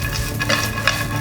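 Fried okra tossed in a pan with a light mix of seasoning, giving a steady close sizzle with soft stirring scrapes and a couple of brighter clinks, no voices.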